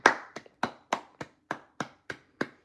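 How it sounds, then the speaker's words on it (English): Hands clap in a steady sequence of about nine sharp, evenly spaced claps, close and alone with no talking. "Gotta clap for that."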